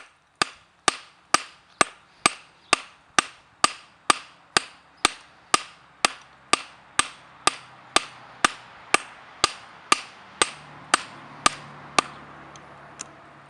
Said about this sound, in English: We're using the ball peen of the hammer for this part.